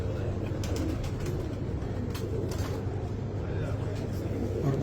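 Pigeons of Punjab high-flyer and low-flyer breeds coo softly at close range, a low murmuring rumble steady throughout, with distant traffic and voices talking in the background.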